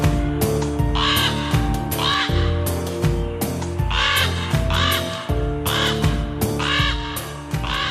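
A crow caws repeatedly in loud, harsh calls that come in steady rhythmic runs, close by, over a dense background with no talk.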